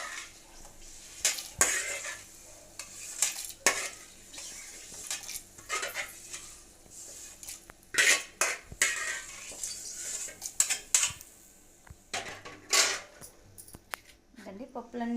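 Lentils and spices being stirred and roasted in a pan for a stuffed brinjal masala, with repeated clinks and scrapes of a metal utensil against cookware, close and irregular, alongside kitchen handling noise.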